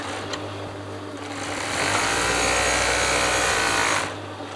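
A sewing machine runs steadily while stitching velvet fabric for a soft box scatter cushion, its motor whirring loud and close for a couple of seconds and then easing off.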